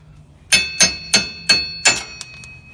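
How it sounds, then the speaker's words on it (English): Five sharp metallic hammer strikes driving out a vehicle wheel stud ring out in a steady rhythm, close and loud, followed by a lighter tap and fading ring. "we're going to go ahead and take a hammer and drive out this stud."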